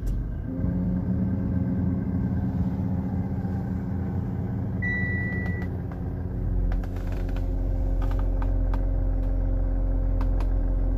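A Mitsubishi Pajero Sport automatic SUV idling, a steady low engine rumble heard from inside the cabin, with a brief tonal beep midway and a slight dip in the hum before it settles again.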